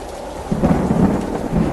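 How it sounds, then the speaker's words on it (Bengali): Thunderstorm with heavy rain as an audio drama sound effect: a dense, steady roar of downpour with a low thunder rumble swelling through the middle, loud and close, no voices. "ততক্ষণে তুমুল বৃষ্টি আরম্ভ হয়ে গেছে"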